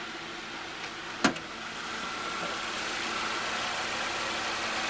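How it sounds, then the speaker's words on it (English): A car engine idles steadily with a low, even hum throughout, broken once early by a single sharp click, with no talking. "Perfectly running engine."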